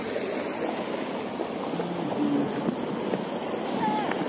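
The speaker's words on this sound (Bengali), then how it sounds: "পাহাড়ের বিভিন্ন জায়গা থেকে জল বয়ে আসছে এখানে, আর এখানে জমা হওয়ার পরে সেই জলটি আবার নিচে পড়ছে।" Water at the Wah Kaba waterfall in Meghalaya, flowing down from the hills into a pool and falling again, makes a steady, dense rushing roar that holds throughout. A faint tonal bird-like chirp rises above it now and then.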